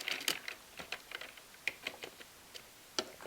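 Soft, quick clicks of typing on a computer keyboard, an irregular run of faint close keystrokes with no talking.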